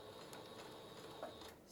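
A sewing machine stitches the seam of a cross-stitch project bag, sewing a few stitches forward and back. It gives a faint, steady mechanical whir with quick ticking needle strokes, close by and quiet, with no talk.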